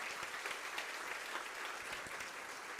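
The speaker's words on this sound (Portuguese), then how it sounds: "Aplauda ao Senhor." A church congregation applauds at a fasting and prayer service, a continuous soft wash of many hands clapping, fairly distant and even, with no talk over it.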